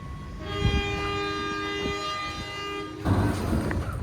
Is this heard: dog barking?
no